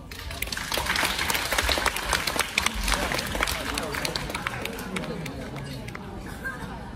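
An indoor audience at a Deyun Society crosstalk show at Guangdelou applauds warmly, dense clapping that swells then slowly thins, with crowd murmur mixed in.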